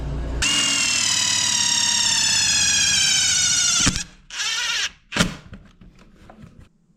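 A Briggs lawn mower's small electric starter motor whines steadily at a high pitch for several seconds, close and loud, then cuts off, followed by two shorter bursts and some clattering.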